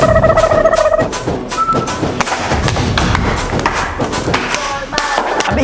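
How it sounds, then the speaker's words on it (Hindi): Firecrackers bursting around a school, a dense run of repeated thuds and bangs throughout, loud and close, mixed with people talking. "अबे ये कौन से पटाखे फोड़ रहे?"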